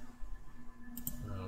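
A computer mouse clicks quickly twice near the end as someone selects a browser extension icon in Chrome. The clicks are faint and close over a low background hum.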